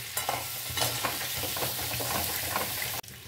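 Potatoes frying in a pan with chili powder, a close, steady sizzle broken by scraping stirs, cutting off abruptly near the end.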